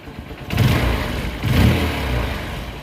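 An old, freshly repaired motorbike engine revs in two strong surges, rising and easing back to a rough idle between them, close and loud with no talking.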